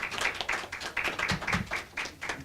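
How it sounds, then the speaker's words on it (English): A small crowd at a mayor's press conference gives a brief round of applause, a moderately close, irregular patter of hand claps with no speech over it. "Can we have a round of applause for them?"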